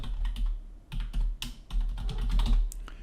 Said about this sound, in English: You can just type them in like this. Hit tab, type in another one.